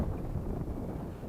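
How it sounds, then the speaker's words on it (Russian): Strong gusting wind buffets the microphone during perch spinning fishing on open water, a dense low roar filling the whole short stretch with no voices. "Ветер очень сильный."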